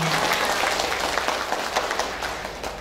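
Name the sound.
audience applause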